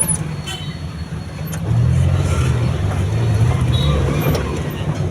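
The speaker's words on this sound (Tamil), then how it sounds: "வண்டி உரும்புது பாருங்கள்" A petrol Maruti Omni van's engine roars on a main road near Thanjavur, a loud, steady low drone that swells partway through and stays up, with someone talking over it.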